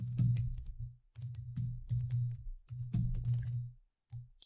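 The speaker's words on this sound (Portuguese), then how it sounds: "Vou digitar aqui e explico depois o código" Rapid bursts of keystrokes on a computer keyboard while Excel macro code is typed, with close clicks in uneven runs separated by short pauses.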